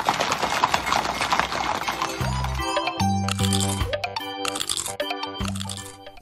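Rhythmic clip-clop of horse hooves in a children's phonics song, over a bouncy musical backing, the hoofbeats steady and fairly close.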